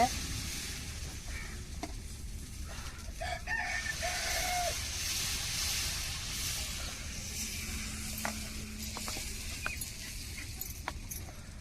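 Dosa batter sizzles steadily on a hot dosa griddle in a home kitchen, a continuous close hiss with faint background noises and no talking.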